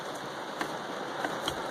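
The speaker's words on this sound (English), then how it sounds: "it is raining like a son of a bitch outside" Heavy rain falling outside a garage during work on a car's short shifter, a steady broadband hiss with faint scattered drop taps, constant and fairly quiet throughout with no talking.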